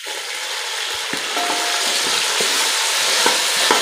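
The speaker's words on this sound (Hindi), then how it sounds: "अब इसमें डालते हैं लहसुन अदरक का पेस्ट दो चम्मच के बराबर डालेंगे और इसे फ्राई करेंगे" Onions, garlic-ginger paste and tomatoes frying in a pan in a village kitchen, a loud, continuous hiss with occasional stirring clicks, close by and without voices.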